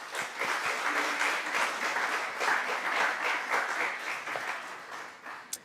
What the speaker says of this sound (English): let us once again thank our distinguished speakers with a round of applause.